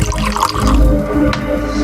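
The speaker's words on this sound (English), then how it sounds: "So let's take this shot of the whiskey pouring into the glass." Whiskey pours into a glass with no equalizer applied, a close, loud, continuous liquid gurgle and splash lasting just under two seconds, alone without speech.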